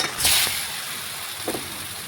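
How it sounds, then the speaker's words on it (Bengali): Marinated chicken drops into a hot pan of fried spices, giving a brief burst of sizzling near the start, then a steady frying hiss with a short stir noise about a second and a half in. "এখন মাখিয়ে রাখা চিকেন আমি দিয়ে দিচ্ছি।"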